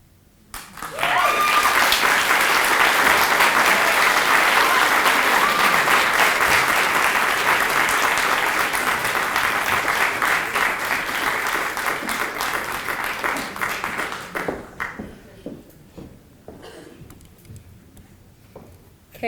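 Large audience at an award ceremony gives sustained, loud applause that swells quickly, holds dense and even for over ten seconds, then fades into sparse claps.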